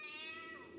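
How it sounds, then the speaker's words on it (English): A single drawn-out cat meow in the video game Five Nights at Freddy's: Into the Pit, faint but clear and heard alone without talk. "Oh, even the cat doesn't like him!"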